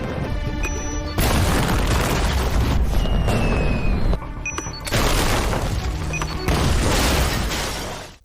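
Loud booming explosions blast through a shop wall during a fireworks festival, several heavy bursts with crashing debris and rumbling, separated by brief quieter gaps with crackling tones.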